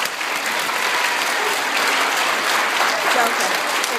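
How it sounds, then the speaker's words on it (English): A park crowd claps for their teachers, a thick continuous wash of applause at steady, fairly loud level throughout, with a few faint voices mixed in underneath. "So I'd like to give a round of applause for all your teachers."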